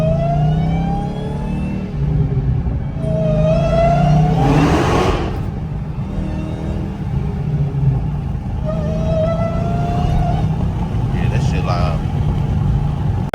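A Dodge Hellcat with a cold air intake cruises with the windows down, a low, steady engine rumble rising briefly in pitch as it accelerates, heard under someone talking throughout.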